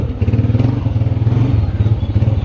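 Motorcycle ridden on a road in Kashmir during rainy weather, its engine running steadily near and loud with a continuous low throbbing drone and some clatter throughout.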